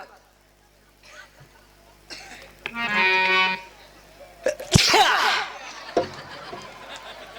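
A man performs a sneeze himself during a Hindi comic folk storytelling session: a sharp burst of breath followed by a loud, bright explosive release, framed by quieter sounds and voices before and after.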